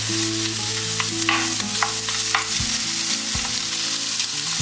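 Spam crisps in a hot pan for egg fried rice, giving a loud, unbroken sizzle over a steady droning tonal background, with a few faint utensil taps.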